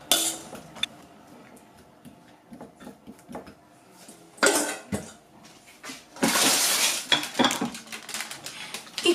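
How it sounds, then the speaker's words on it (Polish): Seasoned potato pieces tumble into an ovenproof dish with clattering, scattered knocks and a louder rattling pour near the end, close by and without talk. "Wykładam do naczynia żaroodpornego."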